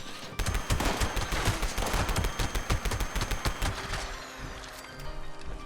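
Rapid automatic gunfire from a weapon in the video game Fallout 76. Dense bursts of sharp, loud shots come in quick succession for about five seconds with no talking.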